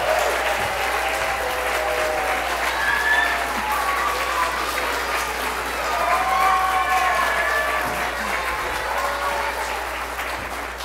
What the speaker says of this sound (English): let's have a big round of applause for Rojane